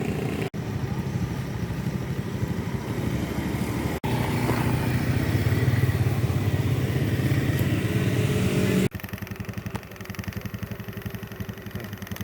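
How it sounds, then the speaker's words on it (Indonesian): A motorcycle rides along a road on a trip to archaeological sites in Indonesia, its engine a steady, close, loud drone that continues throughout, with a few abrupt cuts. "Kebetulan ini pakai motornya dia."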